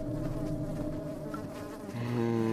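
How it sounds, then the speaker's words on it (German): A housefly buzzes steadily in a warm room, a close, continuous drone that wavers slightly in pitch and gets louder near the end, with no talking. "Blöde Fliege"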